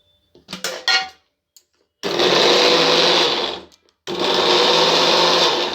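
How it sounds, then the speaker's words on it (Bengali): An electric mixer grinder blends mango with milk for a milkshake, two loud whirring bursts of about two seconds each separated by a brief pause, after some short clatter as the lid goes on. "এবার এটা ঢাকনা লাগিয়ে আমি এটাকে মিক্সি করে নেব।"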